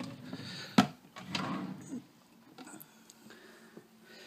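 A hotel room drawer in Glasgow being opened and closed, one sharp wooden knock followed by softer sliding rubs and small bumps, close by in a quiet room.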